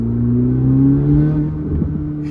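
A car engine revs hard, its steady droning tone climbing in pitch, with the exhaust note loud and close throughout.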